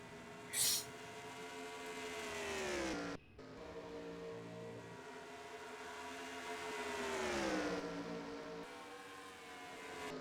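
Stock-car engines from a pack of cars in the NASCAR Racing 2003 game drone with a layered whine. The pitch rises and falls as the cars run together, with a brief dropout near the three-second mark, all at a fairly low level.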